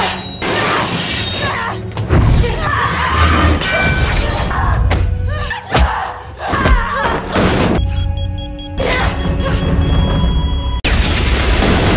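A loud, booming explosion from a fight scene in a yakuza action film, with heavy thuds and crashing debris across the whole stretch and a sharp burst near the end.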